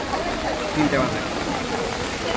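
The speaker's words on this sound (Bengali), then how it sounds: "আজকে এই ঝড় বৃষ্টি তুফানের মধ্যে" Heavy rain pours during a storm over a student protest outside a college, a dense continuous wash of drumming drops with indistinct voices faintly underneath.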